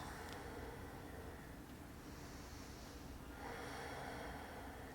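Slow, soft breaths in and out while holding a reclined yoga split, faint airy swells rising and falling under quiet room noise.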